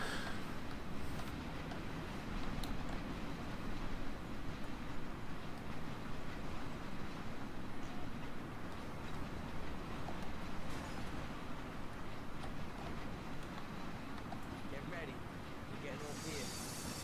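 A train ride in the video game Mafia: The City of Lost Heaven produces a constant low rumble and rattling that holds steady throughout, with someone talking over it.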